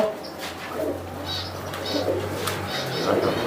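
Giribaz pigeons coo softly at a bird market, low repeated calls scattered through a busy background with faint voices.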